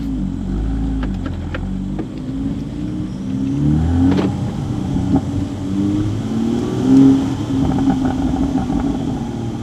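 Steady engine drone from inside a BMW M2 on a spirited drive, the note rising and falling with throttle and swelling into a brief louder rev near the end.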